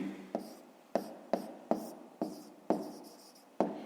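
A pen on paper jotting down numbers for a fifth-grade maths exercise, sharp taps and short scratchy strokes repeating at an irregular pace, close and fairly quiet.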